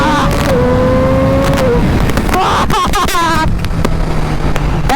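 Motorcycle ridden at speed while the quick shifter is tried, engine pitch rising and stepping through gears under heavy wind noise, with a rider talking over it.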